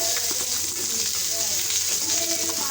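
Sponge gourd pieces drop into spice paste frying in a pan, giving a steady, bright sizzling hiss throughout with faint speech underneath.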